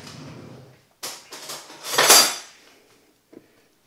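A spoon clatters among cutlery and dishes in a kitchen drawer, a burst of metallic jangling and scraping that builds to a loud rattle, then a final faint clink.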